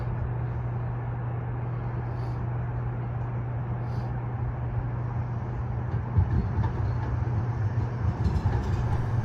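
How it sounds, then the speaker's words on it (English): A Siemens S70 streetcar on Salt Lake City's S-Line pulls in with a steady low electric hum over broadband rumble, growing louder and rougher as it draws near toward the end. "here comes the S-Line"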